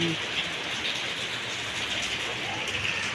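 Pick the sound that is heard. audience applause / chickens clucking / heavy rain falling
heavy rain falling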